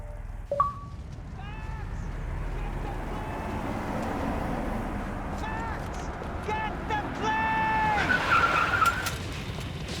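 A car in the Max Payne 3 video game drives and skids, with tires squealing repeatedly over engine and road rumble, while voices speak over the action.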